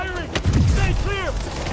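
Gunfire in the Spider-Man PS4 video game: a burst of booming shots rings out mid-clip amid game sound effects, with voices calling out over the action.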